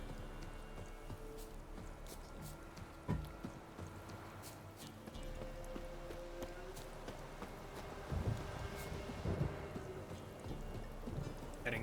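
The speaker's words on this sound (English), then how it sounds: "Heading towards stormy weather." A thunderstorm in The Witcher 3 hisses as steady rain under low rolling rumbles of thunder, with a sharper crack early on and heavier swells toward the end, fairly faint overall.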